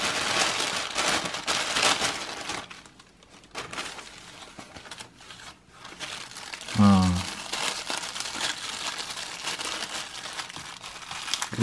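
Plastic packaging bags crinkle and rustle while AliExpress parcels are unpacked, a steady close-up crackle running through most of the clip with a brief louder tonal sound near the middle.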